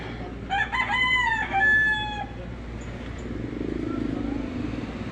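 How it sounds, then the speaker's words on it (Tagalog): A rooster crows once nearby, a drawn-out rising and falling call, followed by a low engine rumble in the background as chickens stay faintly audible. "marami yung mga manok dito mga idol"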